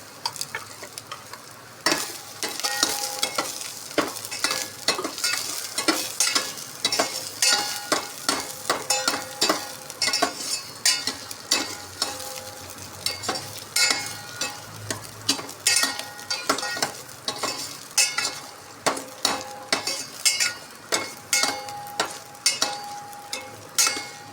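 Finely chopped onions sautéing in a pan, a steady crackling sizzle under a long run of rhythmic spatula scrapes and taps against the metal, close and fairly loud, no speech.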